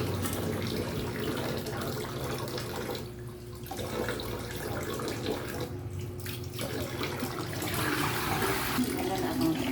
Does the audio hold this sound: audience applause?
no